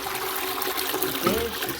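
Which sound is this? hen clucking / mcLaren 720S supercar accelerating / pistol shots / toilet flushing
toilet flushing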